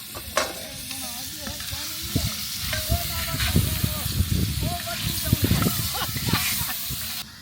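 Ingredients frying in a pan outdoors in the desert while katwa is cooked, a loud, dense sizzle with frequent stirring scrapes, and voices talking underneath.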